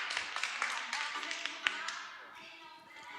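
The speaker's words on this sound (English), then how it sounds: "Let's give him applause." Scattered audience clapping for a speaker at a blockchain developer conference, a few distinct claps that thin out and fade, with faint voices in the room.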